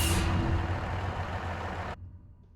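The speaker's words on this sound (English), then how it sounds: "The blue tractor I've been running is a little bit on the quiet side." A blue tractor engine in Farming Simulator 17 runs with a steady, fairly quiet broadband rumble and hiss, then cuts off abruptly near the end, leaving a fainter low hum.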